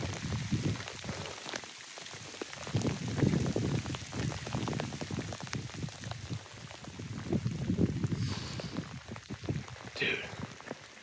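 Steady rain falls outdoors in the woods during a bowhunting deer trip, a continuous pattering wash with scattered closer drops and a few faint voices underneath.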